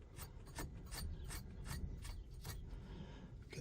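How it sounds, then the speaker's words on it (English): Ratcheting while tightening the steering wheel retaining nut on a Jeep Cherokee XJ, a quiet rhythmic series of about eight rasping clicks, close and regular. "it's time to put on the retaining nut for the steering wheel"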